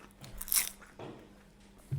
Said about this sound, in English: We're having a nice morning tea too, so sorry for the chewing.